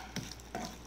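Mustard seeds, dried red chillies, curry leaves and asafoetida hit hot oil for a tempering, giving two short crackling sizzle bursts close by, each followed by a softer ongoing fry.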